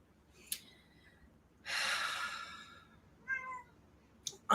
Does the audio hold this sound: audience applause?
no